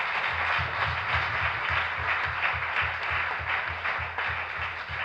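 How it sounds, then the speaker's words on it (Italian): An audience applauding at the Premio Campiello literary prize author meeting: dense, sustained clapping from a crowd that stays even and fairly loud for the whole stretch. "sì, è un applauso, certo"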